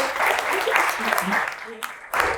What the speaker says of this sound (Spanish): les pido un fuerte aplauso para nuestros 2 ponentes